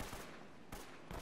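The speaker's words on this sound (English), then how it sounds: "Oh god, who's shooting?" Gunfire in the video game Uncharted: Drake's Fortune on PS4, a faint burst of rapid shots that breaks off and then starts again, with no talk over it.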